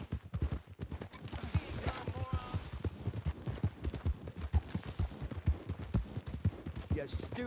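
Steady clip-clop of horse hooves trotting in Red Dead Redemption 2 Online, with voices talking in Portuguese over it and scattered sharp game sound effects in the background.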